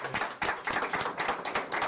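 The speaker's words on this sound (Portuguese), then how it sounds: "uma salva de palmas para nós" A small panel audience at an AI business talk claps briefly, a sparse, uneven patter of individual hand claps that is fairly quiet and close.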